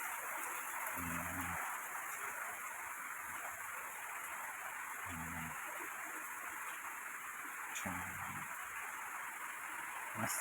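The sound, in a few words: rain falling in Kankavli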